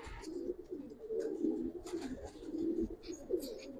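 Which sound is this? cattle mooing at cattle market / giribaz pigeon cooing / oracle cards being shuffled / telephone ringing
giribaz pigeon cooing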